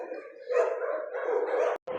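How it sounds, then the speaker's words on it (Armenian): Several dogs bark and yelp in a steady, overlapping run that lasts almost the whole stretch, fairly close and loud, with a brief break just before the end. "մեր շունիկները ինչի են հաչում"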